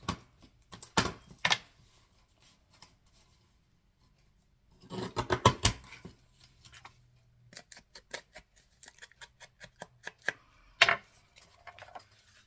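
Scissors trim card for a small Christmas journal cover in scattered bursts of close, crisp snips and clicks, with quiet gaps between the cuts and no talk.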